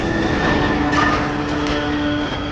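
A train rumbling along railway tracks toward a car stalled between the rails, heard as a steady, loud mechanical roar with sustained whistle-like tones in a film scene.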